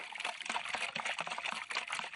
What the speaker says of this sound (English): Here, pouring a sugar solution on the crop.